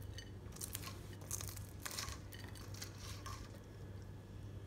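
Caramel popcorn is stirred in a pan, giving repeated scraping, clinking and crunching close by over a faint steady hum.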